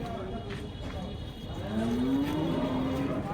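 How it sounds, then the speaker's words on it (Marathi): A cow at a cattle market in Vavi, Sinnar gives a long, drawn-out moo in the latter half, rising over a constant murmur of market crowd noise. "चांगली गाई आहे"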